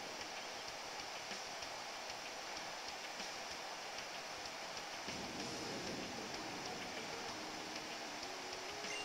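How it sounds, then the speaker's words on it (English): Rain falls steadily in Pokémon Alpha Sapphire as a faint, constant hiss with no talk, and a soft tonal sound enters in the second half. "What terrible rain."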